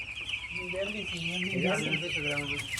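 Eight-day-old broiler chicks in a poultry farm shed peep in a constant high chorus, with lower clucking calls rising over it and faint voices in the background.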